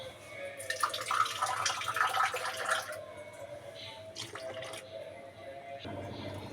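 Water poured into a pot of wheat rava payasam: a splashing, gurgling pour lasting about two seconds, then softer trickles and stirring sounds.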